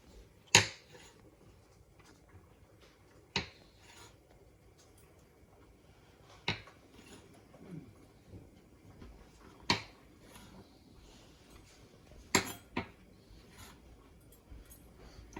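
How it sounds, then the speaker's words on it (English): Garlic cloves having their ends cut off with a knife, heard as a handful of sharp, isolated taps on a board spaced a few seconds apart against a quiet background. "Now you just cut the ends off the garlic."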